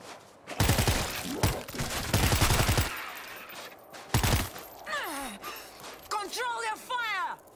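Gunfire in the zombie shooter World War Z Aftermath, dense bursts of rapid automatic shots in two loud volleys, followed by shouting and groaning voices.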